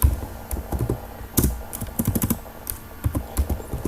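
Quick bursts of keystrokes clatter on a computer keyboard, close and crisp, with short pauses between runs and no voices.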